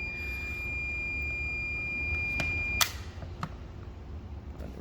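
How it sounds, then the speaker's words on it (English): A multimeter's continuity beeper sounds during an intermittent-reverse check on a Toyota diesel, giving a thin steady tone with a few sharp clicks and one brief louder chirp, fairly quiet over low background hum. "I have this on set on the beeper function."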